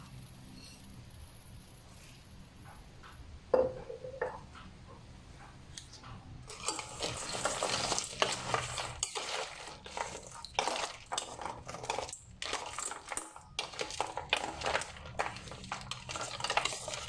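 Caustic lye being stirred into ice in a container for beginner soap making: a quiet start with one clink, then several seconds of close, busy scraping and crackling as the ice breaks up and melts.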